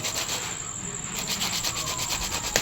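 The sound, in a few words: sanding PVC pipe with sandpaper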